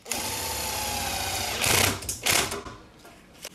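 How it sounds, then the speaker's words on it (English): A half-inch nut on a garage door opener's idler pulley is tightened. A steady mechanical whir runs for over a second, then gives way to two louder ratcheting bursts and a final short click. "just tighten up that half inch nut back into place"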